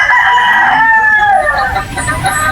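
A gamefowl rooster of Sweater Boston type crows loudly and close by on a game farm in Batangas, one long drawn-out call that fills the clip.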